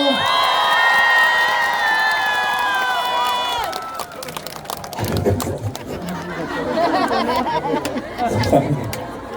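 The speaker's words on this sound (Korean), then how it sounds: "큰 박수 한번 주시겠어요?" A festival crowd cheers and shouts with scattered whoops, lively and close, while singing fades out near the start.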